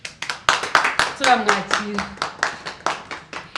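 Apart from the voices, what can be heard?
audience clapping to welcome Aisha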